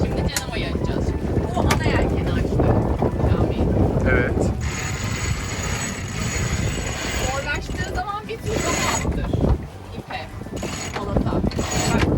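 A sail being hauled in aboard a sailboat in Kadirga Bay, Marmaris, with pulley and rigging creaks and rattles under steady wind noise and near conversation in Turkish.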